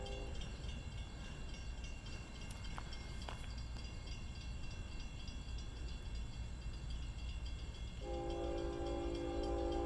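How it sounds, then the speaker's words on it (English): A train passes near the Elliott Road crossing in Gilbert, Arizona, a faint, distant rumble of rolling cars that swells slightly before a sustained horn blast sounds near the end. "Now the train is passing Elliott Road."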